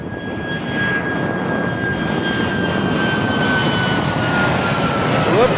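A Swoop jet airliner at Toronto Pearson Airport roars loudly and steadily, its engine noise building slightly toward the end with a thin whistling tone drifting over the broadband rush.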